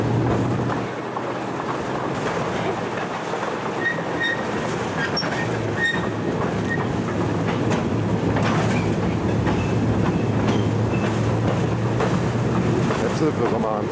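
A train on the Ma & Pa Railroad rumbles along the rails with steady clickety-clack and occasional squealing wheels, loud and continuous throughout.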